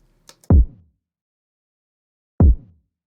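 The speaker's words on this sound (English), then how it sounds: "And with just a regular kick, it sounds like this." Two deep, punchy lo-fi kick drum hits with no compression, roughly two seconds apart, each a short boomy thump that decays quickly, preceded by a couple of faint clicks, alone against silence.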